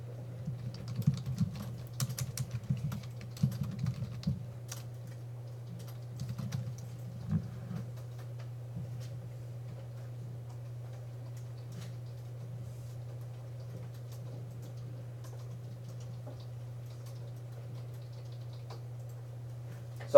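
Bursts of computer keyboard typing during a programming lecture, quick clustered keystrokes in the first half that thin out and stop, over a steady low electrical hum.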